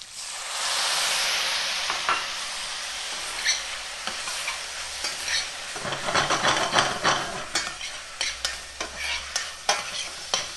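A pan sizzles and hisses steadily as water hits it while deglazing, with scraping and stirring clicks over the frying.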